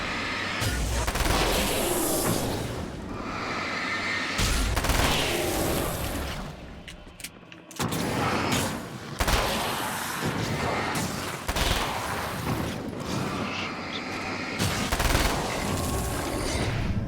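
SMG fire in the video game Alan Wake's American Nightmare comes in loud, sustained rapid bursts, broken by short pauses and a brief near-silent gap before the shooting resumes.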